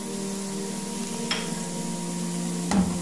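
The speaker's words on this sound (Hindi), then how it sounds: "गरम मसाला डाल के थोड़ा सा हम चम्मच से हिला के उसको मिक्स करेंगे" A spoon stirs garam masala into frying onions, giving a steady low sizzle with two brief scraping clinks against the pan.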